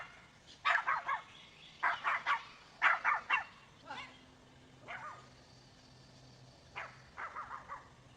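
A small black-and-white dog and a bigger dog bark in short bursts of yaps and woofs, several clustered groups with pauses between them, heard at a distance in a courtroom with faint low background hum.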